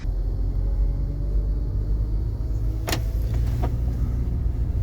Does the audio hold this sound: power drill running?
no